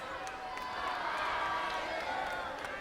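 A crowd at an American Gladiators event jeers and roars at the gladiator Viper, a broad, sustained wall of voices with shouts and whoops rising and falling.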